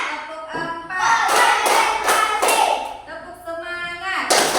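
Children clapping in rhythm during a classroom ice-breaking game, a run of crisp, fairly close claps in a steady counting pattern with a voice chanting along.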